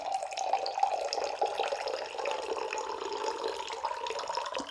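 Water poured into a glass makes a steady splashing and trickling stream, close and moderately loud, continuing without pause and with no voices.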